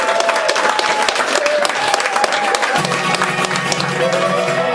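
A pub audience at a live music gig at the Globe Inn in Exeter claps and cheers loudly for a performer, steady applause with a few voices and faint tones underneath.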